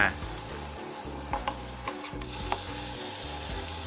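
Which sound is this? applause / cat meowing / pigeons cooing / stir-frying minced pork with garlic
stir-frying minced pork with garlic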